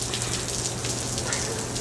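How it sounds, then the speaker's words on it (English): Steady rain falls in hot Palm Springs weather, a dense, even hiss of drops hitting surfaces that stays constant throughout. "raining"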